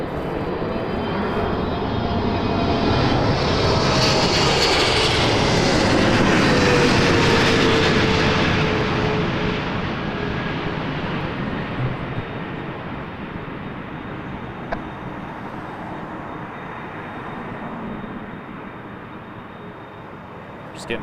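An EVA Air airliner arriving at Toronto Pearson on a Friday night roars past as a broad, steady jet rumble that swells to a peak and slowly fades, loud and continuous throughout.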